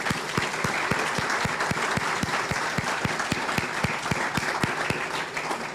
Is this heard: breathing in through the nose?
no